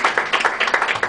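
An audience at an award ceremony marking a TV station's first anniversary applauds, with dense, rhythmic clapping that is close and loud throughout a brief moment.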